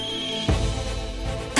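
An electronic phone ringtone plays a steady, tonal melody, with a brief thump partway through and another knock at the end; no talking.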